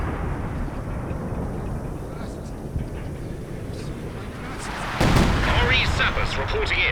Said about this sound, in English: He drops the artillery down on it.